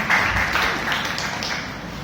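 Brief round of applause at a Toastmasters club meeting: a short, loud wash of clapping from a small audience that fades slightly over about two seconds.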